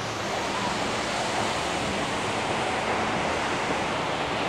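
Heavy seawater pounding and surging nearby, a dense, continuous roar of crashing waves that holds steady throughout with no voices.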